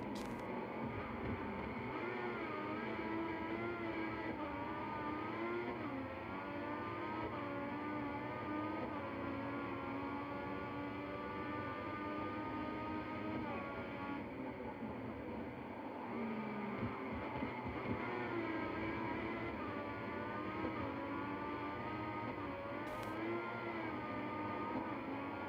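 A Formula 1 car engine in the F1 2014 racing game at the Malaysia circuit drones steadily at high revs, pitch rising and falling through gear changes for the whole stretch, with no talk over it.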